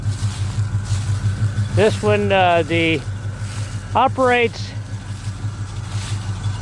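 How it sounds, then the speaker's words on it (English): A 1968 Pontiac GTO with its original 400 engine idles with a deep, steady low rumble that runs throughout, while someone speaks briefly over it. "Got a mean sound to it. Like I said, it's got the original 400 engine in it."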